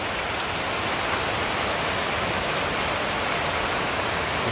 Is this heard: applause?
no